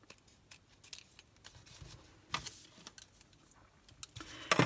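Scissors snip through the paper tail of a large gift bow on a Christmas treat box, giving a few quiet, sparse cuts and crisp clicks against near silence, with one louder snip at the end.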